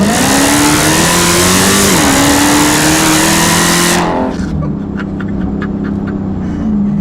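A 707-horsepower 2015 Dodge Charger Hellcat accelerates hard, its loud engine climbing through revs for about four seconds, then dropping sharply as the throttle lifts and settling into a lower steady drone.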